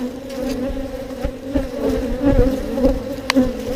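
Honey bees buzzing close by during a hive inspection in Texas, a dense steady drone with small bumps and knocks from handling of the hive.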